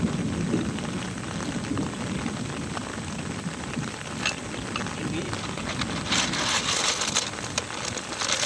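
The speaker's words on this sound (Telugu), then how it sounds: "ఇప్పుడు వర్షం వచ్చేస్తుంది తడిసిపోతున్నాను నేను" Rain falls outdoors near water in a steady, even patter that continues throughout, with a few sharper splashes toward the end and no clear speech over it.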